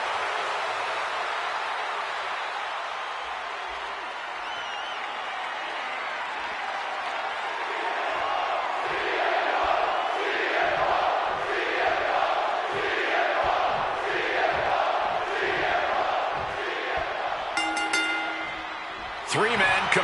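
A wrestling arena crowd in the WWE 2K26 video game roars and cheers continuously, rising in rhythmic surges and chants, with a commentator's voice talking over it.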